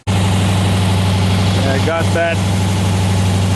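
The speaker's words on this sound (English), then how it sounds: "I climb in and start the engine and turn the air conditioner on" A 1976 Corvette restomod's engine idles with a steady, loud, even drone throughout, while a voice briefly speaks over it.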